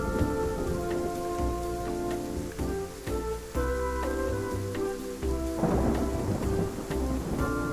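Steady heavy rain pours through a thunderstorm in the video game Undawn, with deep rolling thunder rumbling underneath and swelling into a louder crack near the end, no voices present.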